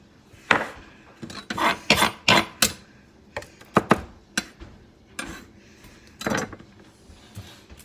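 Quick, uneven knife strokes chopping an onion on a cutting board, a burst of sharp taps followed by scattered single cuts, close and fairly quiet with no talking.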